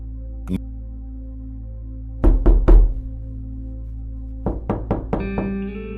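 Knocking on a wooden door, two bursts of three or four sharp raps separated by a pause, plus a single knock near the start, close and alone.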